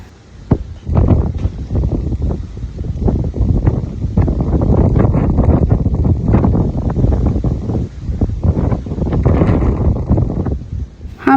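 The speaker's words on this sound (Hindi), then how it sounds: "बाहर इतनी तेज़ तूफ़ानी हवा चल रही है" Strong stormy wind gusts outdoors, buffeting the microphone in loud, continuous roaring bursts with brief lulls, no voices.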